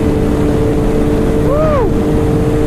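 An MV Agusta F3 motorcycle fitted with a new road-legal exhaust drones steadily nearby outdoors, with a brief rising and falling engine note over constant wind-buffeted rumble.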